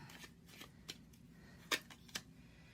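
Tarot cards being shuffled give soft riffling and flicking sounds, with a few sharper snaps of cards slapping together, quiet and close.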